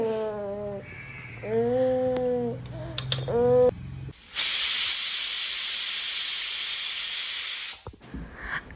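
A pressure cooker lets out a loud, steady hiss of escaping steam for several seconds, preceded by whistling tones and a brief clatter.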